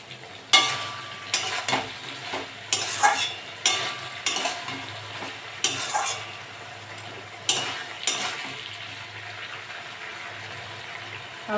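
Okra and prawn curry being stirred in a pan over low heat, a soft steady sizzle broken by repeated bursts of spatula scraping at irregular intervals, close and moderately loud with no talking.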